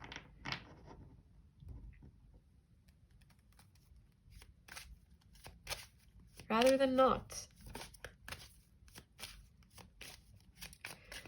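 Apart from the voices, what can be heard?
shuffling a deck of tarot cards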